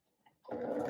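Close, loud whirring from a sewing machine as it starts up mid-clip and keeps running steadily while stitching a curved quilt block, after a brief quiet moment.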